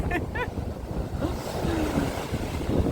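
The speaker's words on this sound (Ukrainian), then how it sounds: "Подивіться на це морічка. Які хвилі, що вона витворяє." Sea waves surge along the Odesa shore in winter, a continuous rough wash of surf mixed with wind noise on the microphone, with faint bird-like chirps near the start.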